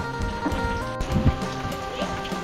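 Rain falls on a rural valley village in Laos, a close, continuous patter with some scattered tonal background sounds and no clear speech.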